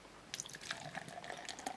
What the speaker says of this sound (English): that's a terrible pour